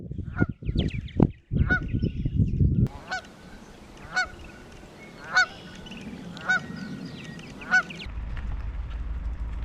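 A series of loud, nasal goose honks repeating at irregular intervals over a steady outdoor background at a slough, after a burst of rustling noise.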